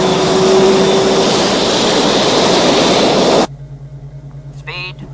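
An F116 jet aircraft roars past in a loud, low-level, high-speed flyby, a dense wall of engine noise that cuts off abruptly, followed by a quieter hum and a brief voice.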